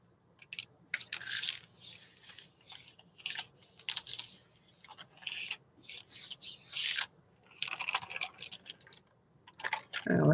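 Painted paper rubbed by hand over a gelli plate, close soft rustling and scratchy rubbing strokes in irregular bursts with short pauses, fairly quiet.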